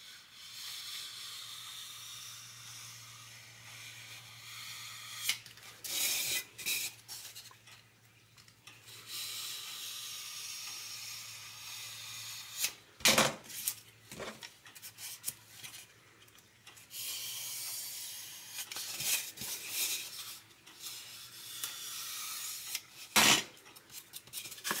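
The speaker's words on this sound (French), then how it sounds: "Après on va couper en biais à 45 degrés comme ça" Hand tool cutting a shallow 45-degree angled groove into a model workpiece for a scratch-built RC Star Wars build, heard as repeated close rasping and scraping strokes in uneven bursts, with occasional sharp knocks and no talk.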